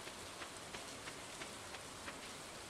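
Steady rain falls in the Stardew Valley farming game, a soft continuous patter with faint periodic drip ticks, quiet and without talk.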